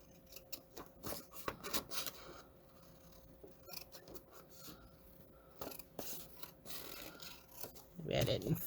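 Scissors trim a folded paper Christmas card with quiet, close, rasping snips and rubbing scrapes. The cuts come in irregular bursts with soft handling noises between them.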